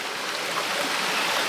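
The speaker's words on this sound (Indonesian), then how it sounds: "Ini kondisi sungai bawahnya penonton." A river flowing over rocks below sloping land makes a steady, continuous rush of water. The sound is fairly loud and close, with no voices.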